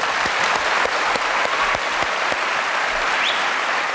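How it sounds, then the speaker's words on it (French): Studio audience applauding on a French television game show, a dense, steady wash of clapping with a few sharper claps standing out, loud and continuous for the whole stretch, no voices over it. "Applaudissements pour Jean."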